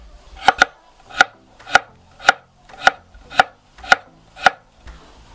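Eight crisp knife chops slicing carrots on a cutting board at an even, unhurried pace, close up, each a sharp thud with a slight double tap.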